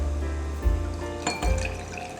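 Prosecco pours into a glass for an Aperol Spritz as a soft, close liquid trickle with a couple of brief gurgling surges over about two seconds.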